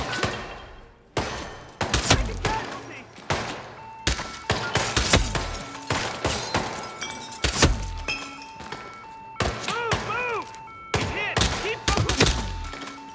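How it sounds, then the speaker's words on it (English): Gunfire in the Hitman stealth game, an enemy shooting at the player in a hotel suite in Bangkok, heard as a series of sharp, loud bangs spread across the clip among other thumps and game sounds. "Now he's shooting us."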